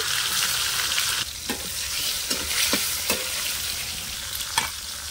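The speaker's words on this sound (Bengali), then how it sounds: "টমেটো কুচিটা ভালো করে একটু ভেজে নেবে।" Chopped tomato fries in hot oil with bay leaf and cumin, a steady close sizzle broken by several sharp scraping stirs of a spatula against the pan.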